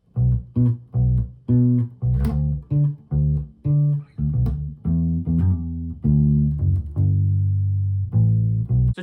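A bass guitar plays a bass line: a plucked melodic line of distinct notes in a steady rhythm, followed by a short run, close and alone.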